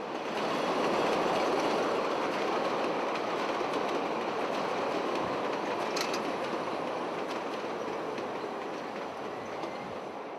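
A Chicago subway train rumbles along elevated tracks close to buildings, giving a continuous loud roar of wheels and rail noise with faint clatter and a brief high squeal midway, and no talking.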